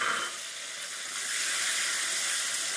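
Chopped tomatoes fry in oil tempered with panch phoron, a steady broadband sizzle and hiss that holds at an even, fairly loud level for the whole stretch, with no talking over it.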